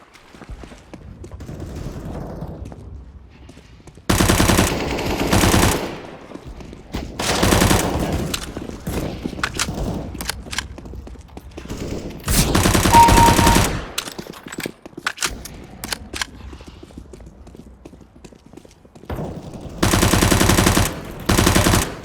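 Rapid automatic gunfire from a PC video game bursts loudly in several blocks of a few seconds each, separated by quieter game sounds and stretches of near silence.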